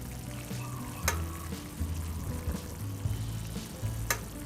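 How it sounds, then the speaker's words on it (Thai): Chinese sausage cooks in boiling water in a pan, with soft irregular bubbling and popping under a low hiss and a couple of sharp clicks. "ตอนนี้น้ำก็เริ่มเดือดปุดๆเลย"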